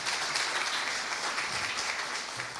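Audience applause at an electricity distribution forum: a dense, steady wash of many hands clapping at close range, filling the room without a break.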